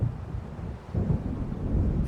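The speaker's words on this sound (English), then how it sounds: "It seems there's a storm coming." Deep rumbling thunder from an approaching storm in the video game Alan Wake Remastered, a steady low roll that swells louder after a brief dip, with no talk over it.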